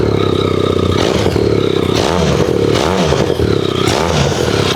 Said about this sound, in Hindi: इनलाइन ट्विन में आपको इतनी अच्छी आवाज कोई भी बाइक में नहीं मिलेगी